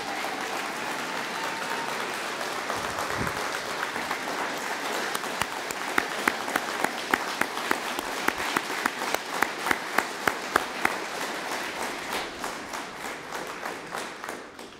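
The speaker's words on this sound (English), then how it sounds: "And let's give them a round of applause one more time." Audience applause at a police academy graduation ceremony, a dense round of clapping with a few sharp individual claps standing out, fading toward the end.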